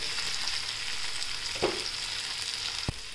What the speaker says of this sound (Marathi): आता आपण त्याला चांगलं परतून घेऊ